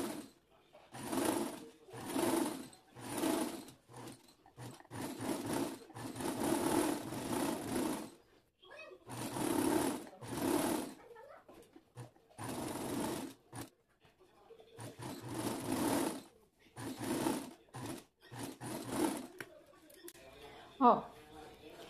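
A sewing machine stitches a narrow hem on a draped dress with a hemming foot, running in repeated bursts with short pauses between them while someone talks over it.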